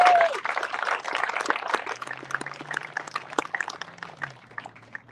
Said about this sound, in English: can we get a round of applause for the Meridian Chamber?